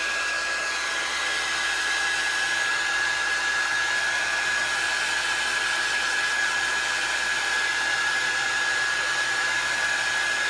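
Hair dryer blowing on distress ink, a steady close whirring hiss with a thin constant whine, running unbroken and alone at even loudness throughout.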